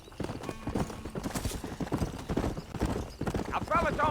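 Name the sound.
horse galloping in Red Dead Redemption video game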